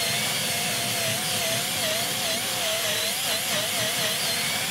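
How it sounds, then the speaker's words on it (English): Power drill fitted with a hard-bristled wax buffing brush polishing carved wood with beeswax, giving a steady, loud whirring drone with a wavering pitch throughout. "you can buy one of these, which is a drill attachment, which is for wax buffing with these really sort of quite hard bristles here"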